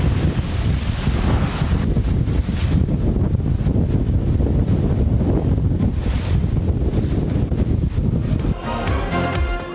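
Storm winds with rain lash Islamabad, a loud steady roar of gusting wind buffeting the microphone, broadband and continuous throughout, with a brief shift in tone near the end.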